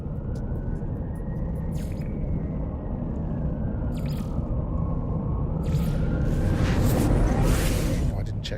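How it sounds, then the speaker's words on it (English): A deep, steady storm rumble in the No Man's Sky video game drones loudly throughout, with brief high whooshes and a swelling sweep toward the end. "Weather warning, incoming storm."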